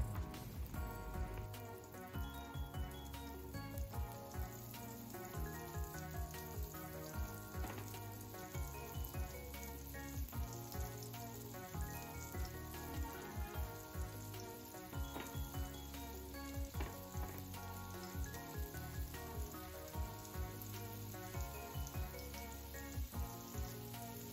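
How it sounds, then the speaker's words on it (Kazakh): Meatballs rolled in flour fry in hot oil in a pan, giving a steady, close sizzle with fine crackling and popping throughout. "Табаға майды қыздырып, тефтелиді ұнға аунатып, майға салып, жан-жағынан, екі жағынан қызартып, қуырып аламыз"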